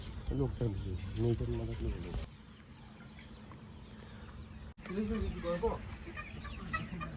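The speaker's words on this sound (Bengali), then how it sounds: "পুরো এখানে মুরগি চাষ করা আছে" Desi chickens kept on a small farm cluck and call close by, with people talking over them through much of the stretch.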